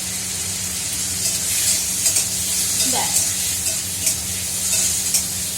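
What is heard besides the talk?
frying and stirring in a pan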